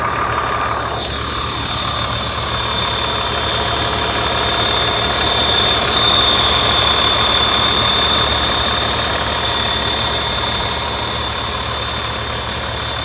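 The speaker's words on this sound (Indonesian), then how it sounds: "Mari kita dengarkan suara mesinnya." A Karina intercity coach bus on a Jakarta to Madura trip sits idling, its engine running smoothly with a steady low hum and a constant high whine, with no talk over it.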